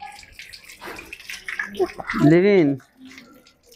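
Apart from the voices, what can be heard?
water running while a child washes hands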